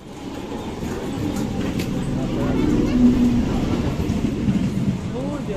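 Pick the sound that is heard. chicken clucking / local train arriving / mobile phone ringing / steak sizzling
local train arriving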